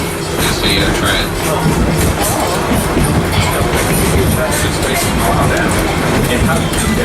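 A train at Disney's Animal Kingdom rolls along as a steady, loud, continuous rumble with rhythmic rail clatter, a dense wash of noise under faint voices throughout.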